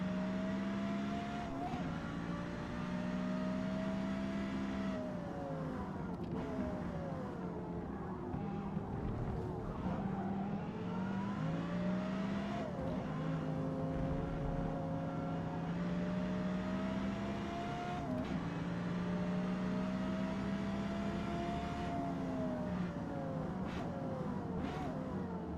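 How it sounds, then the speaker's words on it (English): A turbocharged race car engine in a racing video game drones and revs continuously, pitch rising and falling through gear changes at steady, fairly quiet level. "Having a turbo car that makes all kinds of noises is,"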